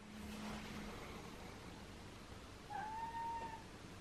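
One drawn-out cat meow rises late, moderately loud, over steady outdoor background noise.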